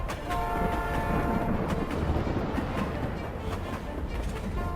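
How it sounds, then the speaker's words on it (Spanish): A long, sustained train whistle sounds with steady horn-like tones over continuous rumbling rail noise from a moving train. "solo el silbido final del tren, largo y agónico antes de precipitarse al vacío"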